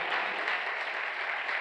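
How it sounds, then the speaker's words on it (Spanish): A church congregation claps steadily and evenly, a dense wash of applause that holds without letup. "dale un aplauso al Señor"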